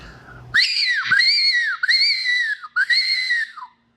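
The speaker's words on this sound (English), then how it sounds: "this is what our original whistles used to sound like" A traditional fox hunting whistle blown loud and close in three long, wavering, warbling blasts with brief gaps between them, alone with no talking.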